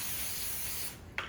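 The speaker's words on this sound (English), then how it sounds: "I'm going to spray the inside of my foil" Cooking spray hisses steadily onto the inside of aluminium foil for nearly a second before cutting off, followed by a faint rustle of the foil, close and alone.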